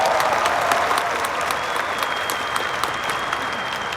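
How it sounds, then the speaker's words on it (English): Conference audience applauding a keynote speaker at Veecon, a dense, steady wash of many hands clapping close and loud, with no talk over it. "Let's clap it up for Marcy."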